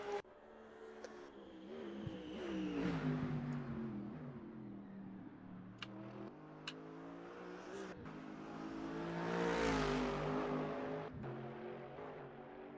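BMW and Mercedes race cars battle in an NLS endurance race, engines revving and shifting up and down continuously, swelling louder as the cars pass close by, with no talk over them.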